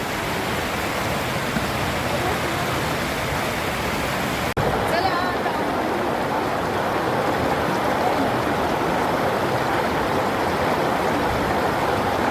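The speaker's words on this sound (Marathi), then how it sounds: "गार गार गार पाणी आणि झरणा" Cold water of the Mandakini waterfall, on the way to Gangotri, pours in a steady, loud, close-up roar that never lets up, with one brief break partway through.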